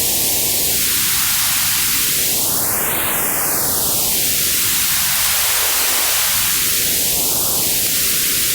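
White noise synthesized in Ableton Live 11 and run through an auto filter, a loud continuous hiss whose notch sweeps slowly down, up and back down again like a whooshing wave, with no voices.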